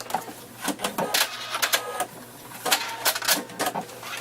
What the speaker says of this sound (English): And then you continue sewing along that edge.